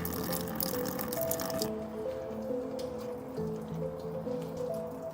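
Coolant draining out of the plastic radiator of a 2006 Toyota Sequoia, a quiet, steady liquid trickle and splashing with faint, irregular drips, heard close up and alone.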